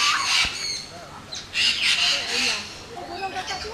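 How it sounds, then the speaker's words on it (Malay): A cockatoo squawks loudly at Lost World of Tambun, harsh repeated screeches close by, with people talking in the background. "Burung kakak tua."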